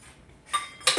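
A couple of quick metallic clinks as a small metal bowl is picked up and set down, close by and alone.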